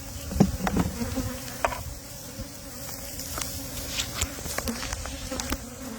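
Honey bees buzz steadily around an opened hive, a close, continuous droning hum with scattered sharp taps and knocks from handling.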